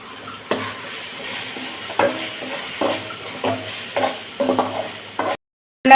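Squid masala with ginger, garlic and chili powder is stirred and sautéed in a pan, steady soft sizzling broken by repeated scraping stirs, close and alone before a brief silence.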